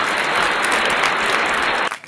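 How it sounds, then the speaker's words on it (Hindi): A live audience claps steadily throughout at a Hindi poetry recital, dense and loud, before the applause cuts off abruptly near the end. "पहली बार मतलब पहली बार तो ताली बजाओ आप लोग"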